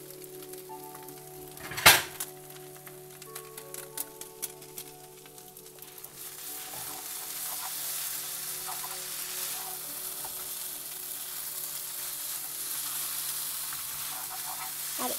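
Noodles with vegetables and packet spice mix frying in a pan, a steady sizzle that thickens and grows after a sharp clank early on, with faint stirring scrapes and no talk.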